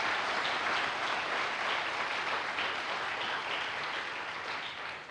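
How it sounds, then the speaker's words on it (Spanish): A church congregation applauds loudly and continuously, a dense, even roar of clapping that fills the space and tapers slightly near the end, with no speech over it. "Dale un fuerte aplauso a Él."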